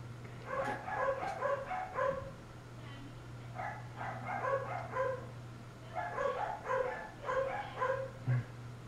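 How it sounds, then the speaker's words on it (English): Dogs bark in repeated bursts of quick yaps, moderately close, separated by short pauses, over a steady low electrical hum. "dogs will be barking"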